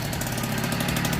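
Rebuilt 1964 NSU Quickly S23 three-speed moped engine running on its first start, a steady close putter with a rapid even pulse and no talk.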